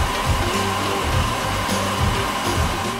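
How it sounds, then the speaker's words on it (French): A hair dryer blows steadily and loudly throughout, a continuous whooshing motor drone used while styling a paper doll's hair. "Je vais utiliser ce sèche-cheveux si tu es d'accord."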